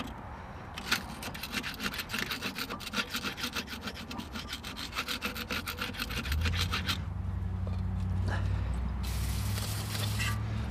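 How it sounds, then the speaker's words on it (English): Scraping crusty buildup off a front brake caliper, heard as a steady, rapid rasping scrape that goes on for several seconds close to the microphone, then gives way to a lower rumbling noise. "Maybe I should scrape some of this crust off of here."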